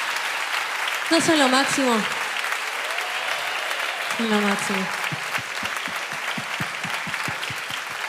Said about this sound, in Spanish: un fuerte aplauso por favor a todos mis músicos que me acompañaron esta noche